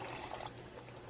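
Water poured into a pot of Thai green chicken curry, a soft steady trickling stream, faint and close, with no talk.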